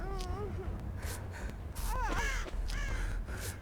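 Repeated crow caws from the mobile horror game Dead by Daylight Mobile, several harsh calls spread across a few seconds over a steady low game drone.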